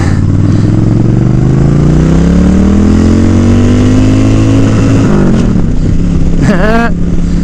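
A Suzuki Boulevard S83 1400cc cruiser motorcycle engine drones loud and close, its pitch climbing steadily under acceleration, then drops and revs up sharply again near the end.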